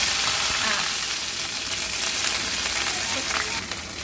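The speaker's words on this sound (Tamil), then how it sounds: "வந்து எண்ணெய் ஊற்றி கடுகு போட்டாச்சு" Mustard seeds frying in hot oil, a dense hissing crackle with fine popping, steady and close throughout.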